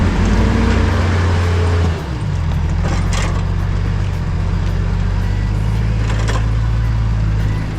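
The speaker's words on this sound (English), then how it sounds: "Gonna drive up here, follow the car with the drone to get some sick shots." A 4WD car climbs a steep mountain track in the Watagan Mountains, its engine droning loud and close with a steady low rumble and occasional knocks and rattles from the rough ground.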